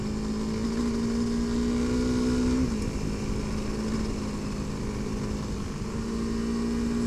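A Honda CRF300L motorcycle ridden on dirt back-country roads, heard as a steady close engine drone under heavy wind rush with a slight change in pitch partway through.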